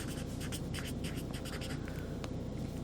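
Marker strokes squeak and tap across a board as keywords are written, a steady series of short scratchy strokes with no talk, fairly quiet in a classroom setting.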